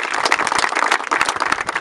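Dense, steady clapping from a crowd at a community authority gathering in Xeatzán Bajo, a continuous patter of many hands sustained throughout with no voices standing out.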